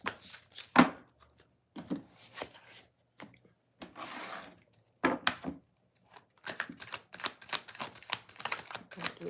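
A tarot deck shuffled during a live reading: bursts of riffling and tapping card noise come in uneven clusters with short gaps, close and moderately quiet, with no voices.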